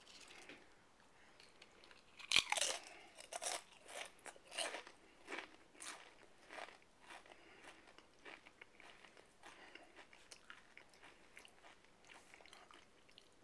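Hot, spicy potato chips crunched and chewed close up, a sharp bite followed by a steady run of brittle crackling chews that slowly soften, with no talking.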